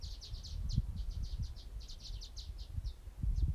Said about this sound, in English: Those birds sound like they're playing a video game.